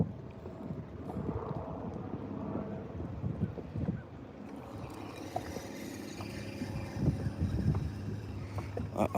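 Wind rushes across a microphone outdoors on a bass-fishing boat, a close, steady buffeting rumble with gusts that swell and fade throughout.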